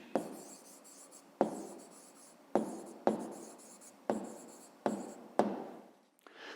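Pen or pencil writing an answer by hand on paper during a 5th-grade math exercise, heard as a series of about seven short, close scratching strokes, each starting sharply and fading, with no talk.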